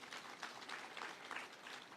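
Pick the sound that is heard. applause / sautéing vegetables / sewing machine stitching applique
applause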